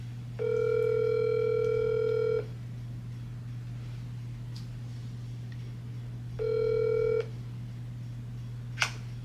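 A phone line ringback tone sounds twice, each ring about two seconds long with a pause between, over a low steady hum.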